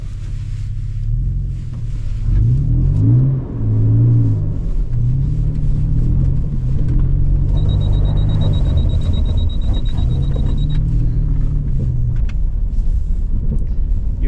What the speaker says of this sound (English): since I'm in the snow, may as well do a quick little drift